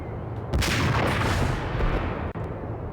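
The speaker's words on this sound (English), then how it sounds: "Oh man, shots fired." Gunfire in the Max Payne video game, a sustained loud roar of shots and blasts with heavy low rumble lasting most of the moment, briefly cut off near the end.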